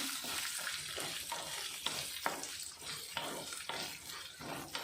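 Ingredients for nati style chicken biryani frying in a pot, a steady hiss and sizzle under repeated stirring scrapes, close and continuous without speech.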